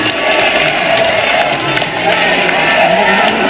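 Crowd cheering and shouting as Lee Jae-myung appears outside after his first-trial acquittal, a dense continuous roar with scattered claps and voices, fairly loud throughout.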